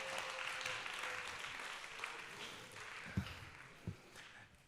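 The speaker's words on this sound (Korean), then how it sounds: "큰 박수와 한호 한 번 더 부탁드립니다." Faint, distant clapping from a church young-adults worship congregation, thin and scattered, with a few louder thumps near the end and no clear cheering.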